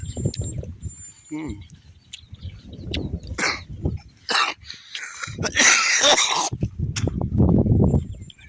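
A person with a bad cough lets out repeated harsh coughs in irregular bursts, close and fairly loud, mixed with throat-clearing and brief vocal sounds.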